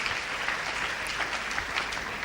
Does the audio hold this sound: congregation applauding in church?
yes